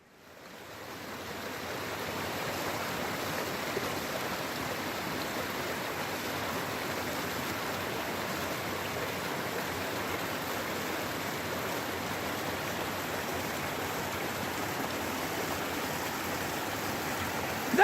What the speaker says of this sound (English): That would be a fun little waterfall to slide down.